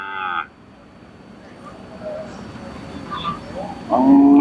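Cattle moo at a crowded livestock market fair. One low, drawn-out call comes at the start and another rises near the end, with murmuring voices and general crowd noise in between.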